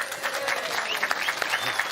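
A crowd at the Norwood Food and Wine Festival breaks into sustained, fairly close applause, a dense patter of clapping with a few cheers mixed in.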